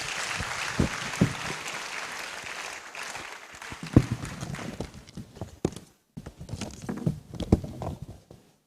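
Audience applause welcoming the Chief Justice at a Supreme Court 150th anniversary event at Manhyia Palace, loose scattered clapping that starts fuller and thins into uneven bursts and individual claps, with faint murmuring.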